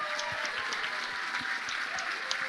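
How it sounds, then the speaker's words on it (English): Audience applause for game-development teams at a Montreal demo night, a steady dense patter of clapping from a room of people lasting the whole stretch, with no talk over it. "On les applaudit chaudement, s'il vous plaît."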